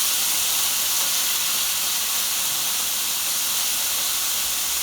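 Thin beef strips cooking in a skillet for a broccoli and beef stir-fry, an even, loud, hissing sizzle that holds steady throughout with no pauses or voices.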